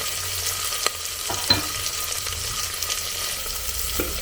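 Masala chilli curry sizzles steadily in an oily pan, with occasional scraping knocks as it is stirred, all close and continuous without talk.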